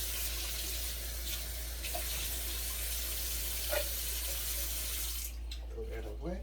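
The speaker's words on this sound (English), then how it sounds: "I'm going to rinse that can out." Tap water runs steadily into a sink to rinse out an emptied can of tomatoes, a continuous close splashing hiss that keeps going for several seconds and cuts off near the end, with a few faint clinks.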